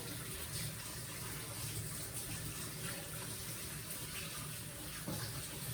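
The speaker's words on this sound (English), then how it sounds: "So now let me wash my hands." Tap water runs steadily into a sink as hands are washed in a home kitchen after working dough. The flow is continuous and fairly soft, with small splashing changes, and no voices.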